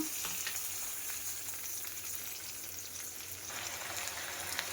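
Onions, curry leaves and dry chillies fry in oil and butter with a continuous crackling sizzle, which brightens toward the end.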